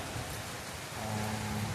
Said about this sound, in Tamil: நல்லாயிருக்கு மழை இது நல்லாயிருக்கு பூமிக்கு நல்லது தான்